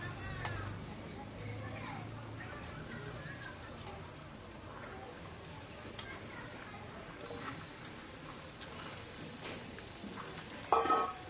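Chicken pieces frying with onions in a pan, a steady soft sizzle and stirring throughout with occasional clinks, while a person talks over it and children can be heard in the background.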